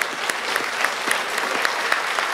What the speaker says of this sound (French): Une belle main d'applaudissements, s'il vous plaît.